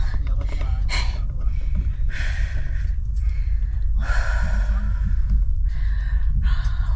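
Heavy, labored panting close by after running for a train at a railway station in China: repeated loud breaths and gasps about once a second, rough and breathless, with no talking.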